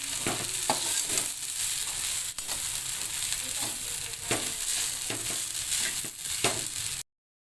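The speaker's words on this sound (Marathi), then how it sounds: "आता व्यवस्थित परतून घ्यायचं आहे आपल्याला" Cumin rice with salt is sautéed and stirred in a pan, giving a steady sizzling hiss punctuated by repeated scraping and stirring clicks, close up, before cutting to silence at the end.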